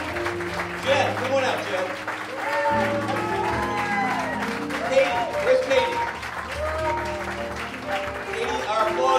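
Audience at a 50th birthday party at Atomic Cowboy in St. Louis, Missouri applauds steadily as crew members are called out one by one, with a voice announcing names over the clapping and cheering.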